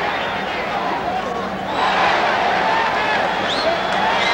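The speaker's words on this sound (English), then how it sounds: "every punch that Franklin throws, whether it lands or not, this crowd has just gone crazy" Boxing crowd in a packed arena roaring continuously during a toe-to-toe bout between Matthew Franklin and Marvin Johnson, a dense wash of cheering and chatter that swells louder midway and stays loud to the end.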